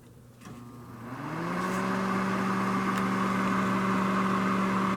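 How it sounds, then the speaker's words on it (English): A small Temro car heater switches on and its fan motor spins up, rising in pitch over about a second before settling into a steady, even whirring hum. "here's this little Temro car heater"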